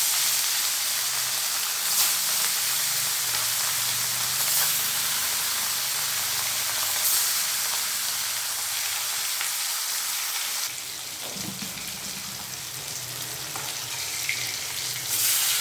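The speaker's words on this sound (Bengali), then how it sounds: "এবারে আমি মাছগুলোকে ভেজে নেব।" Hot oil sizzles and crackles steadily as fresh rohu fish fries in a wok, a continuous bright hiss that shifts and pops louder partway through.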